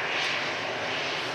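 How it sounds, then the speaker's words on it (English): An EasyJet airliner in from Innsbruck vacates the runway at Manchester Airport, a loud, steady engine roar filling the short stretch with no voices. "This EasyJet just vacating the runways in from Innsbruck"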